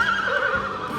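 A horse neighs once, close and clear, a short wavering whinny with no other sounds around it.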